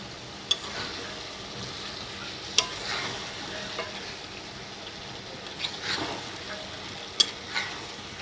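Bone-in meat, skin and trotters are stirred in a frying pan of spiced oil for a mung dal dish, giving a continuous close sizzle with scattered spatula scrapes and clinks and no voice.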